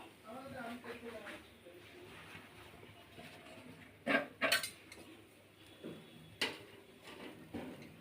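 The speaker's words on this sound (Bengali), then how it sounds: "এখন আমি ঢাকনা খুললাম, একটা একটা করে বের করব।" Kitchen clatter as a lid comes off a pan and chicken kebab skewers are lifted out one by one, with a few sharp metallic clinks and scrapes, mostly quiet, and a person talking throughout.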